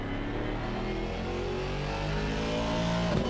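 A GT4 race car at Brands Hatch revs hard with a steady, rising engine drone that holds loud and close throughout, with a quick shift or blip near the end.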